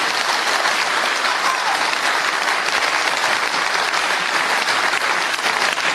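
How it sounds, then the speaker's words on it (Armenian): A crowd at a Gyumri gathering bursts into dense, sustained applause, loud and even from start to finish with no break. "Ծափահարություններ մեր Գյումրիին։"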